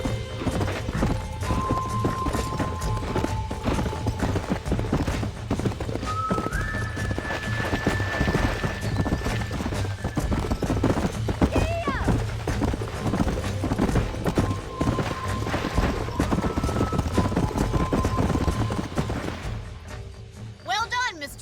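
Horse hooves clip-clopping steadily in Red Dead Redemption, a continuous rhythmic patter under game music and occasional spoken dialogue, with an occasional whinny.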